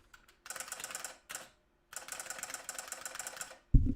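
Typing on a mechanical keyboard with a solenoid fitted, giving dense bursts of rapid clicking keystrokes in three runs separated by short pauses, followed by a sharp thump at the end.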